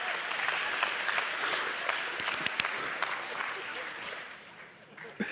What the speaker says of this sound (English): Just start clapping.